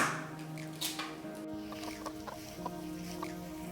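Chickens clucking in a garage, part of a yard flock of about fifty, with soft intermittent clucks and short calls close by alongside some light shuffling, and no talk.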